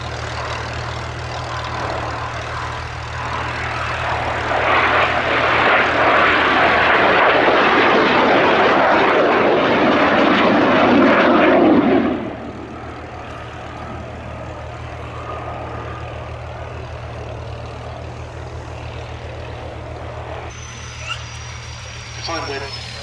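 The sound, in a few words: pair of BAC Strikemaster jet aircraft at airshow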